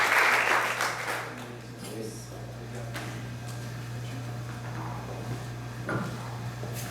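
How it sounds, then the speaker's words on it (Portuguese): A church congregation claps during a worship service, with a burst of applause at the start that quickly thins into scattered, quieter clapping over a steady low hum in the room. "Aplauda o Senhor,"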